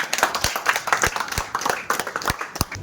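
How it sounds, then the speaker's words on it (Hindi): In an auditorium at an International Nurses Day event, an audience claps to welcome invited nurses, close and fairly loud with irregular overlapping hand claps. "प्लीज उनके लिए एक जोरदार तालियां से स्वागत करें"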